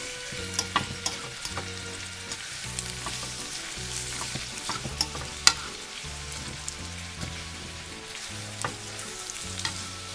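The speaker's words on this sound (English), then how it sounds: "So now we finished with the mushrooms, the onions, and the garlic with the olive oil cooking." Mushrooms, onions and garlic sauté in olive oil for a chicken Marsala, giving a steady close sizzle and crackle with scattered pops and occasional utensil clinks from stirring, and no voices.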